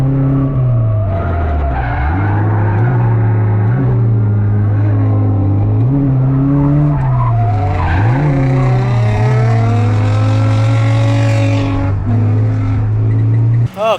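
A car drifts around a track at a drift event, its engine droning loud and steady while tires squeal through long slides, with the pitch dipping and rising between transitions.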